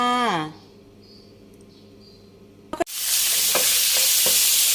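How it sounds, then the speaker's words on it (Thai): Loud sizzling and crackling of bite-sized pork belly pieces dry-frying in a pan over medium heat, sudden and continuous, following a short ringing tone and a clatter. "ปูจะเอาหมูสามชั้นนะคะ ที่หั่นชิ้นพอดีคำนะคะ ลงไปคั่ว"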